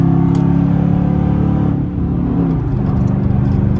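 A Chrysler 300C Hemi V8 with a Diablo tune pulls hard, a loud sustained engine roar that dips briefly mid-run as a gear bangs through, then builds again.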